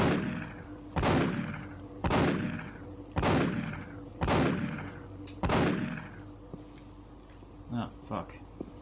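Gunfire in the Paradise Lost video game: five loud, evenly spaced shots about a second apart, each with a sharp crack and decaying boom, followed by quieter short thuds near the end.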